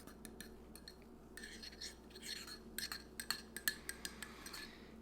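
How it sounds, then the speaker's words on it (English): A tiny spoon clinks against a cup while stirring coffee with milk, a quiet series of light metallic taps and scrapes growing quicker and sharper toward the end. "I'm going to use this tiny little spoon here"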